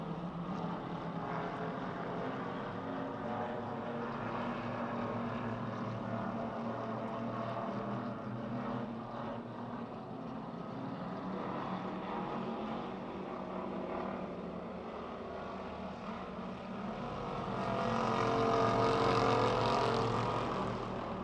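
Race cars roar down the back straightaway at Pennsylvania Motor Speedway, heard as a steady, somewhat distant engine drone that swells louder near the end as the pack draws closer.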